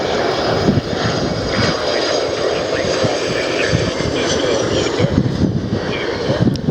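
A Hawaiian Airlines airliner lands at Lihue airport, its engine roar steady and fairly loud, with faint radio-style chatter running underneath.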